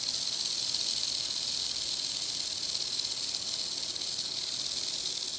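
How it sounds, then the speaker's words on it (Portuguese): Rattlesnake shaking the segmented rattle on its tail as a warning, a steady, loud, unbroken buzzing hiss lasting throughout with no voices. "As cascavéis utilizam desse som para alertar da sua presença."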